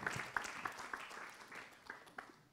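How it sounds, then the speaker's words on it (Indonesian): A studio audience at an Islamic television program claps for two religious teachers, a thin, fairly quiet patter of scattered hand claps that tapers off. "Silakan tepuk tangan buat Ustadz Abdul Kafi dan juga Taki Malik."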